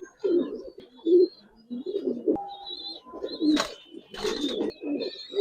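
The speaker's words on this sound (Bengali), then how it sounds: "বুড়া জাতের কবুতর" Several low pigeon coos repeat in a steady rhythm close by from a collection of Giribaz and coloured pigeons, with a few faint chirps and rustles in between.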